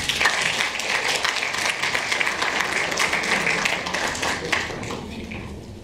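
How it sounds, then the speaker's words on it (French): Sustained applause from an audience at a film festival closing ceremony, steady and dense for several seconds. "sous vos applaudissements"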